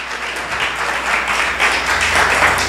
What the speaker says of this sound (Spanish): dele un aplauso al Señor y a Cristo Jesús